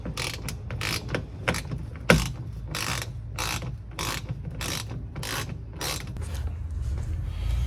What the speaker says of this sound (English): now there are 4 stock bolts you need to get out first